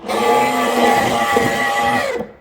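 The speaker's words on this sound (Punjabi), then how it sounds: "ਚਲੋ ਜੀ ਆਪਾਂ ਮਿਕਸੀ 'ਚ ਮਿਕਸ ਕਰ ਦਿੱਤਾਗਾ" An electric mixer-grinder blends milk and sugar, running as a loud, steady motor whir at close range for about two seconds before it cuts off abruptly.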